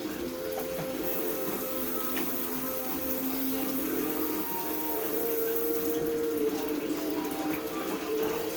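Tap water runs steadily into a sink while tomatoes are washed, a soft, constant hiss and gurgle at low level with no talking.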